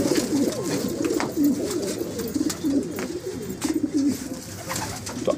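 Homing pigeons coo steadily in low, rolling repeated calls, several birds overlapping nearby, with faint background noise.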